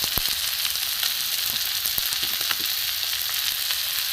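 Turmeric, cumin, chilli and coriander powders fry and get stirred into salted katla fish for fish balls, a dense steady sizzle broken by brief scrapes and taps of stirring, with no voices.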